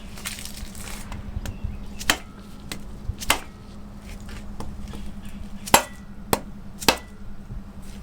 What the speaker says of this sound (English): I'm going to hit this end right here with the rubber mallet as well